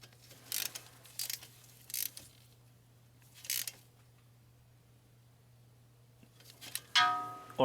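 A ratchet tightens a 10mm wheel speed sensor bolt on a Nissan Murano: a few brief, faint clicking bursts over a low steady hum, then a sharper, louder ratcheting buzz at the end.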